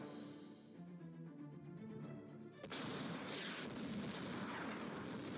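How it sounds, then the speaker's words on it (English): Artillery fire in the wartime strategy video game Order of Battle: a quiet musical passage gives way abruptly to loud, continuous booming barrages and rumbling gunfire filling the rest of the moment. "My artillery can start softening up the target."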